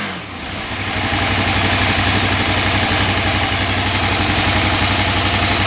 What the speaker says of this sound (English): Now you hear the RPM picking back up. Back to 1450 more or less.